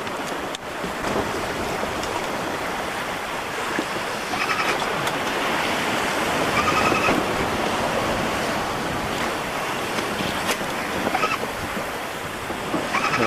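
Continuous broadband rush of sea waves and wind on the St. Lawrence, loud and steady throughout with no voices, like surf heard from a moving sailboat.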